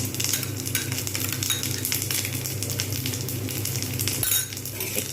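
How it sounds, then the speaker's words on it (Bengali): Dal with ginger and turmeric being stirred in a hot pan, a steady loud sizzle and frying hiss with occasional scrapes and clinks of a spoon against the metal, continuous throughout. "জাস্ট নেড়ে নেবো"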